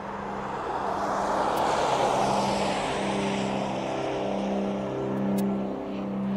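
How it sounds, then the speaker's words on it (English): An aircraft departing East Midlands Airport gives a steady, loud, broad engine roar with droning tonal hum underneath, swelling slightly and holding throughout with no voices. "it's another one of those aircraft that goes out with that call sign of endurance"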